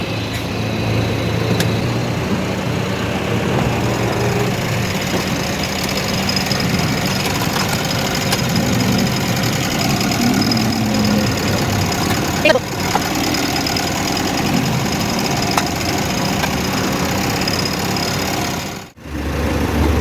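A van engine idles steadily with a low rumbling drone while its battery is being removed, a brief dip near the end.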